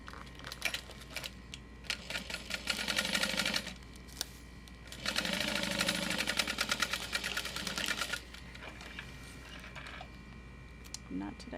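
Sewing machine stitching a clear vinyl beauty bag, running in two sustained bursts with a pause between, then brief stops and starts, close and moderately loud over a low mains hum.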